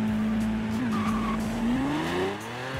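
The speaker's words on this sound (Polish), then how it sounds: "Po prostu gaz i hamulec trzymamy jednocześnie i wtedy samochód robi nam takie coś." A car in Forza Horizon 4 held on gas and brake together for a launch-control start: a steady, loud engine drone at high revs, pitch wavering and then climbing near the end with a brief tire squeal.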